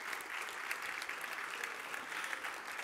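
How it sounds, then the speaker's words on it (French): Audience applause at a Quebec gala stage show fills the room with a steady, dense wash of many hands clapping at even loudness throughout, with no voices over it. "Oui, ça vaut une belle main d'applaudissements."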